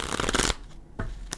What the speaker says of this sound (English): Let's give him a shuffle.